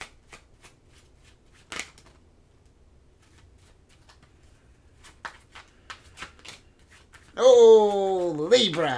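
Tarot cards are shuffled in a few brief, soft riffles near the microphone across a quiet room, followed by a voice speaking at the end.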